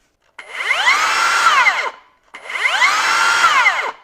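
A Bosch GKS 18V-57 cordless circular saw with soft start runs free twice, each time ramping up quickly to a loud, steady high whine for about a second and a half and then spinning down.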